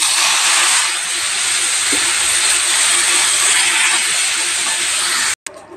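Golden fried onions stirred into tomato-free sambar give off a loud, dense, continuous hiss of sizzling that holds steady, then cuts off abruptly with a short clunk just before the end.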